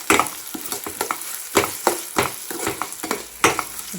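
Fried onions with ginger garlic paste hiss in a pan as a spoon stirs them, giving a close sizzle punctuated by frequent scraping strokes against the metal.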